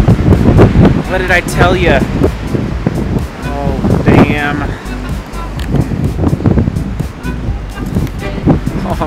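Strong Denver wind buffets the microphone with heavy rumbling gusts while a person speaks over it, with a surf-like roar underneath.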